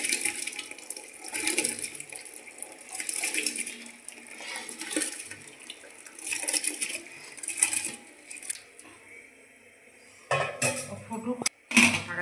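Rice poured into boiling water in a cooking pot for chicken biryani, a steady bubbling hiss with clinks of pot and metal utensils, ending in a few sharp clanks as the lid goes on.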